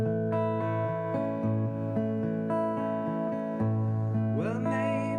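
Electric or acoustic guitar plays the verse of a song, with strummed chords ringing in a steady rhythm and a sliding bend near the end, close and clear with no voice.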